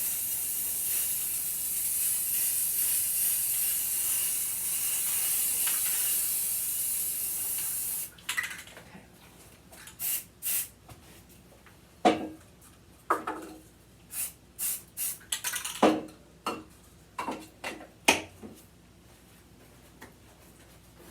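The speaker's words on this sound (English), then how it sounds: "I see a few parts from the front that I'm going to spray" A long continuous aerosol hiss for about eight seconds, then a series of short, sharp spray bursts in an uneven rhythm, close by, as spray paint is applied to shoes.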